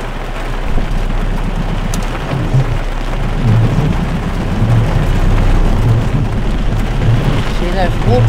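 Heavy rain falls in a steady, loud, dense wash, with low rumbling underneath, continuous throughout and close by.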